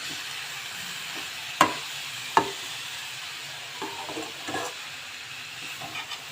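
Vegetable filling for spring rolls cooks in a pan, giving a soft, continuous sizzle with a few sharp clacks of a utensil against the pan and lighter scraping as it is stirred, close and quiet, with no talking.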